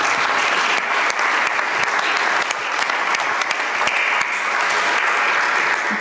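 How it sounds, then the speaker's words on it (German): Warm, sustained applause from an audience welcoming a speaker at a 2023 local election event in Timmendorfer Strand, dense and even clapping throughout with only faint crowd murmur. "wir möchten Sie alle mit einem herzlichen Applaus"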